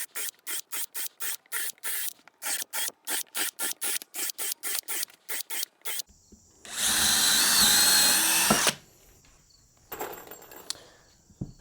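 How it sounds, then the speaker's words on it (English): A power drill pre-drills wet untreated wood while a goat toy is being built, with rapid rhythmic pulses first, then a loud sustained burst of drilling that stops abruptly, followed by a few quieter scrapes. "So I want to pre-drill just to make sure these don't crack."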